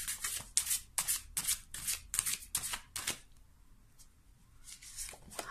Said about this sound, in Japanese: もうちょっとシャッフルしましょう。